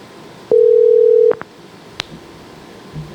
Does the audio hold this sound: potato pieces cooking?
no